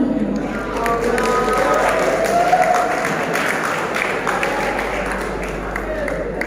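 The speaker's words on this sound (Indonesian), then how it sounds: "Ayo kawan-kawan, tepuk tangan yang meriah dulu buat kami yang keren-keren nih" Children at a Ramadan pesantren gathering in a mosque clapping and cheering together, a lively continuous patter of hands with voices mixed in, fairly loud and close.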